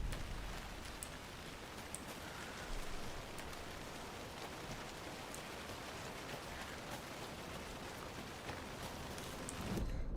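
Rain falls in the video game Alan Wake 2 among tall trees, a faint, steady hiss of rainfall with scattered drop taps throughout and no speech.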